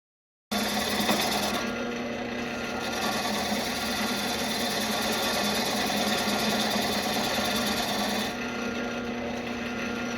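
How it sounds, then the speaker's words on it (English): A belt sander works a small maple bowl, a steady loud motor whir with a continuous abrasive rasp that runs nearly the whole time without pause and with no talk. "Then we'll take the rest of it off on the belt sander"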